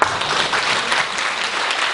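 A forum audience applauds after a presentation on the fourth industrial revolution and youth jobs, a loud, dense wash of clapping that holds steady for the whole short stretch with no voices.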